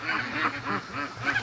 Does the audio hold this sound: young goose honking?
yes